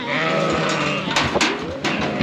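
Sheep bleat in a farm race while being herded, several loud overlapping calls close by over a constant rumble of animals and movement.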